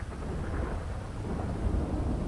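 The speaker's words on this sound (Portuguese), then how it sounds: "a chuva piorou" Heavy hurricane rain in a video game roars steadily with deep rumbling underneath, a dense, continuous downpour that swells slightly toward the end.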